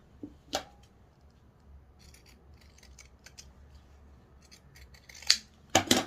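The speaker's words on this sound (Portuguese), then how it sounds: "ou utilizamos uma tesoura de picotar" Pinking shears cut fabric for a child's bodysuit in a few separate crisp snips, with quiet pauses and faint handling noise between them. No one speaks.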